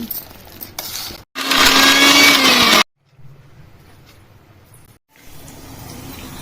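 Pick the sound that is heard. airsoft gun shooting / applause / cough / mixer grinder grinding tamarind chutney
mixer grinder grinding tamarind chutney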